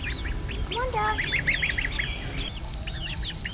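Young ducks, about two and a half weeks old, peep and quack in a busy overlapping chorus on a homestead, with a brief spoken remark mixed in.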